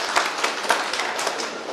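An audience applauds a female presenter at a school safety training session in Raipur, producing a short burst of dense, uneven clapping that fills the room for under two seconds.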